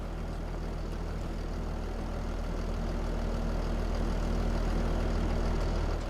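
A tractor engine in Farming Simulator 25 idles in a steady, dense low drone, with no change in tone or rhythm throughout.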